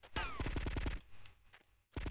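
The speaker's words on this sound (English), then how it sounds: "Is anyone shooting me from behind?" Rapid automatic gunfire in GTA Vice City Definitive Edition, a dense burst of shots lasting about a second, then a short lull and another loud burst at the end.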